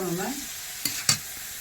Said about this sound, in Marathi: आणि लाल तिखट घालून झाल्यावर ते आपण हलवून घ्यायचं मिक्स करायचं